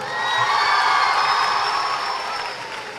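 Sustained applause and cheering from an audience at a talk, a dense, even wash of many hands that holds steady and then eases off slightly toward the end.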